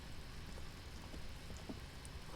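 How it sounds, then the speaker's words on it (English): Rain falls in the Disco Elysium video game as a soft, steady patter with scattered drops tapping on surfaces, quiet and unbroken, with no talking. "It's raining again."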